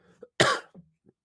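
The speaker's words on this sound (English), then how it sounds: "Sorry, I had a coughing spell." One harsh, close cough rings out, with softer throat sounds and small breaths before and after in an otherwise quiet space.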